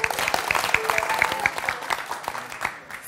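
An audience on a televised dating show applauds, dense continuous clapping from many hands, loud and close, gradually thinning toward the end.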